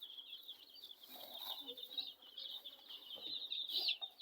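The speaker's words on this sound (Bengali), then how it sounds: "এগুলো হচ্ছে ফার্মি এবং কক মুরগির বাচ্চা" A crowd of young local and farm-breed chicks cheeps continuously in shrill, overlapping peeps, a steady high chorus that swells and dips without pause at close range.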